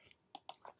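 Typing on a computer keyboard, a few quick, faint key clicks close by in a quiet room.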